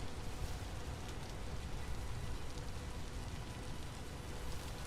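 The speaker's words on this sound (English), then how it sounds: "We need to go someplace where it's not rainy all the time like this." Steady rain falls in the fantasy action game Path of Exile II, a dense, even hiss of drops on surfaces that continues without pause at low to moderate volume and has no voices.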